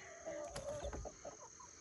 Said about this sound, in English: There's our main rooster.